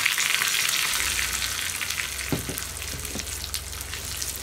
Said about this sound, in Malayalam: ഒരു 2 തണ്ട് കറിവേപ്പില, പിന്നെ ഫ്ലെയിം ഓഫ് ചെയ്തിട്ട് ഒരു 1/4 ടീസ്പൂൺ മഞ്ഞൾപ്പൊടി.